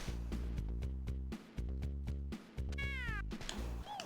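A cat meows and attacks in Michael Jackson's Moonwalker on the Sega Genesis, a chiptune meow with a rising caterwaul over steady, punchy game music and effects.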